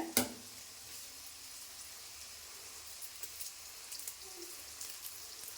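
Dried red chillies frying in a pan for a vallarai keerai chutney, a soft steady sizzle with a brief clatter at the start and faint scattered pops, quiet and close.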